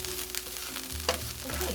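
Cauliflower frying in a skillet sizzles steadily with soft crackles and a brief clink, close and fairly quiet, with no talking.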